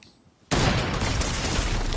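Gunfire in the video game Fortnite: after half a second of near-quiet, a loud, dense burst of shots erupts and keeps going as sustained crackling noise to the end.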